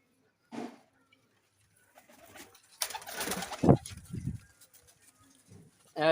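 Parwazi kabootar pigeons for sale give a few soft, close coos amid handling noises and rustling, with someone speaking intermittently nearby.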